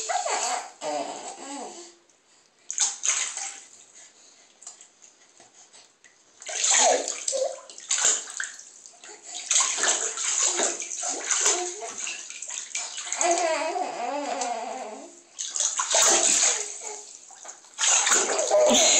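Bathtub water sloshing and splashing as a small girl swims in a filled tub, with bursts of babbling, squeals and laughter over the water; loud, close and intermittent across the whole stretch.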